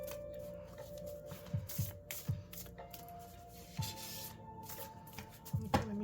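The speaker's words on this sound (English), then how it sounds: "Okay, let me shuffle and just cut the deck." A large deck of tarot cards is shuffled by hand in a quiet room, with repeated soft riffling bursts and papery slaps at an irregular pace, close by.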